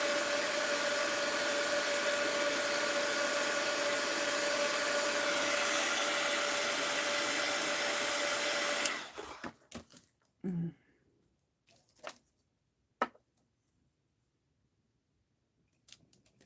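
A heat tool blows hot air for wax seal crafting as a loud, steady whooshing hiss with a faint whine. It cuts off abruptly partway through, followed by a few soft handling knocks and clicks.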